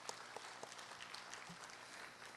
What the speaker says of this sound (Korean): 고맙습니다라는 의미로 박수를 보내주시면 고맙겠습니다